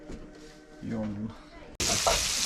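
Crumbed fish, freshly speared on a Fiji reef and coated in flour and salt, sizzles in a hot pan; the hiss bursts in loudly and steadily after a brief murmur of voices.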